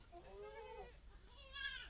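Goats being herded along let out two or three wavering bleats, fairly faint and heard against quiet outdoor background noise.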